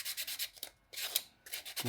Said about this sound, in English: I'm going to sand the top here a little bit more. This 320 sanding paper